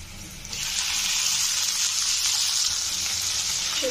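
Dill leaves hitting hot oil with cumin, a sudden loud hiss that swells into a steady, close sizzle and holds to the end.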